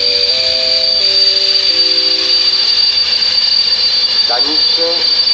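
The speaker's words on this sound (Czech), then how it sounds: "Spěšný vlak číslo 1958 společnosti České dráhy ze směru Letohrad přijel na kolej číslo 5 od staniční budovy." A České dráhy express train arrives at track 5 of a small station in Doudleby nad Orlicí with a steady, high metallic squeal of wheels. Shifting tonal screeches run throughout, and near the end a short upward chirp stands out.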